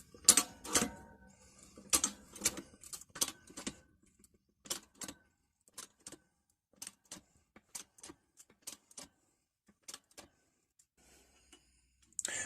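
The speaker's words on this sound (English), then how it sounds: "the hydraulic press, and I'm going to push the socket in until I lose it" A hydraulic press pushes a socket through a deep tool head in a workshop, giving sharp, close metallic ticks and clicks in an irregular series that thin out and space apart over time, with no talk.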